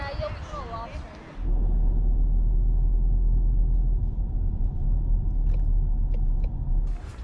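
A car drives along a road at a Hawaii Island park, its engine and tyre rumble steady and loud for most of the clip after a brief stretch of talking at the start.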